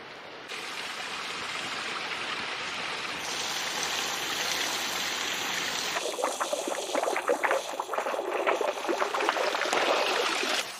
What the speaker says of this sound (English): The water flows right down the slope.